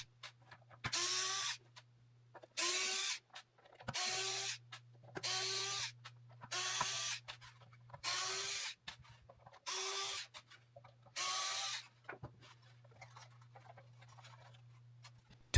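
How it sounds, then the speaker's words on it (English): Guitar pickguard screws are backed out with a hand screwdriver in eight evenly spaced squeaky, scraping bursts, each lasting under a second against a low steady hum. "I need to take off the screws and pickguards to see what's inside."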